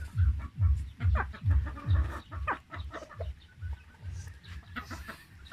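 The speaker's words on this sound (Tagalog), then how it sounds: "Ito po yung RIR ko. 3 months na." Three-month-old Rhode Island Red chickens on a free-range farm cluck close by in a steady run of low, throaty calls, with fainter bird chatter behind them.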